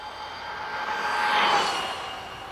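A Traxxas Stampede RC truck runs at full throttle on a 3S battery, its electric motor making a high, steady whine that swells as the truck passes close and then fades, with no talking.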